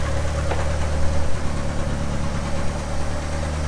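Car engine idling roughly with its O2 sensor unplugged, a low uneven thrumming with a steady throb and slight shake, close and continuous without talking.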